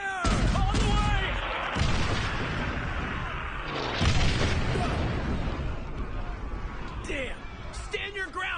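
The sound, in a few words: gunfire and explosions in an anime battle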